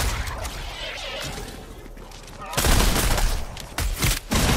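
Rapid gunfire in Fortnite's Fortnitemares Horde Rush mode: loud, dense bursts of automatic shots and impacts erupt abruptly after a quieter moment, then break off and return in shorter volleys.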